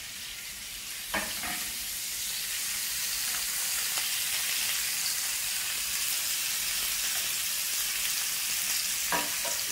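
A burger patty frying in a pan gives a steady, loud, hissing sizzle that lasts the whole time, broken by a few soft knocks of a utensil, with no talking.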